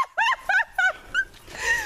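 A dog outdoors on a nature walk gives four quick high yelping barks in a row, close and loud, followed by a drawn-out whining yip.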